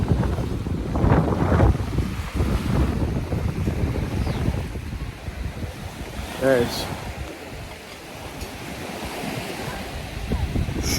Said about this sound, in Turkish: Ve rüzgar aldığı için de dalga hiç bitmiyor.